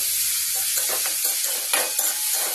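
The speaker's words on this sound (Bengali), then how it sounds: "আমি এখানে চিংড়ি মাছগুলো ভেজে নেব ভালো করে।" Shrimp frying and being stirred in a hot pan for a potato and eggplant dish, a loud steady sizzle broken by a few scraping stirs, close up, with no talking.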